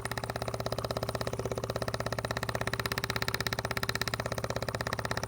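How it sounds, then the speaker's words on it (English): An external fuel pump feeds a generator from an outside gas tank, ticking in a steady rapid rhythm, miked very close and continuous throughout with no voices. "And you can hear it pumping fuel right now."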